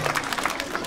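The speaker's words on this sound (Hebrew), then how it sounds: "מחיאות כפיים לאורנה מגן" Applause from a school audience at a 2016 school-year opening ceremony, honoring a music teacher; steady dense clapping throughout the short moment, moderately loud with some crowd murmur.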